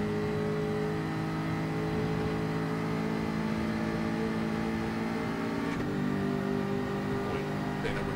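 A pack of Group 4 race cars drones steadily around Watkins Glen Long Course in Gran Turismo 7, with continuous engine hum and a McLaren among the field, the engines' pitch shifting slightly as they hold speed.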